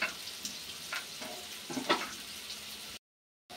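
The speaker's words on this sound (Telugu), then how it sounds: "ఆనియన్స్ సన్నగా కట్ చేసుకునేవి వేసుకొని నీట్గా ఫ్రై చేసుకోవాలి" Thinly sliced onions fry in oil in a pan with a moderate, crackling sizzle and a few soft stirring scrapes, then the sound cuts off abruptly near the end.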